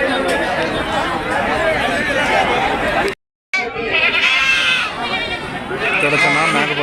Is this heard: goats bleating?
yes